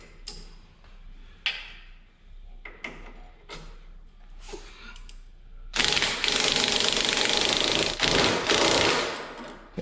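Sway bar bushing bolts being tightened on a 2003 Ford Explorer, heard as a series of short ratcheting bursts and then a long loud buzzing run of a power tool.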